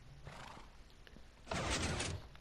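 A horse in the video game Minecraft neighs, a loud whinny swelling up near the end over a low steady background, with no one talking.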